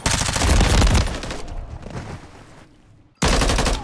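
Call of Duty gunfire rattles in a dense loud burst of rapid shots, trails off into quieter scattered reports and a brief gap, then another loud burst of shooting starts.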